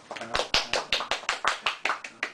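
Hands clap close by in a quick, steady run of about a dozen sharp claps.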